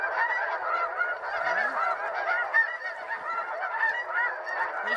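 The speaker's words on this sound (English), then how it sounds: "These freaking geese are irritating." A large flock of snow geese honking continuously during a spring hunt in northwest Missouri, seen from a layout blind, their overlapping calls dense and steady throughout with no talk.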